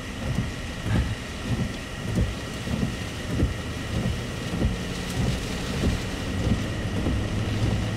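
Tropical Storm Gordon lashes a beach with heavy, steady rain, while low rumbles of thunder roll in repeatedly beneath the downpour; no one speaks.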